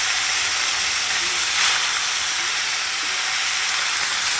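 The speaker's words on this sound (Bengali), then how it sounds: "মাছ ভাজা বসাবো, তেল গরম হয়ে গেছে, একটু ভেজে নেবো" Steady, bright sizzling of fish frying in hot oil, a constant crackling hiss heard close up without pause.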